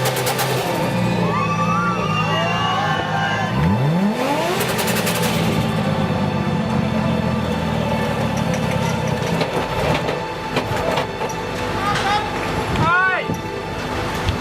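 At a Rotterdam street-racing meet, a restarted car's engine revs hard in repeated rising and falling bursts amid crowd noise, shouts and other engines idling nearby.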